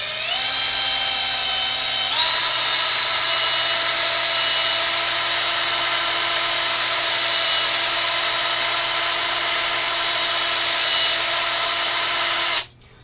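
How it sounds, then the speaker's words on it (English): An electric drill spins steel wool inside the 3.5-inch chamber of a Remington 870 shotgun, giving a steady, loud high-pitched whine that holds for about twelve seconds before stopping abruptly. "We're going to chuck it up in our drill, and we're going to polish this chamber"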